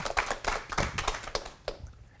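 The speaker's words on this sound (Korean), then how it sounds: "큰 박수로 맞아주세요" An audience claps to welcome a pastor onstage. About a dozen distinct, fairly close claps land in an uneven rhythm and thin out toward the end, with no talking over them.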